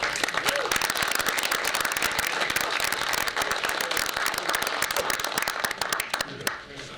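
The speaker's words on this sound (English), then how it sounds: "Please welcome Bob Lewis." An auditorium audience at a veterans association lecture breaks into loud, sustained applause welcoming a speaker, dense clapping filling the room steadily for several seconds before easing slightly at the end.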